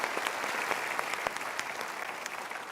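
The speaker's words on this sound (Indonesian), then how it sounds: "kita berikan tepuk tangan" A live seminar audience applauds in a dense, sustained round of clapping at moderate distance, with a few sharper individual claps standing out from the steady wash.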